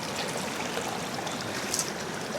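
Cold mountain water of Beulah Creek rushing steadily over rocks, a dense, constant close-up flow with no pauses and no voices.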